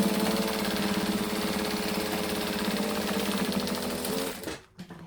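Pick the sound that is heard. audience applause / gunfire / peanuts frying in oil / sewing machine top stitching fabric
sewing machine top stitching fabric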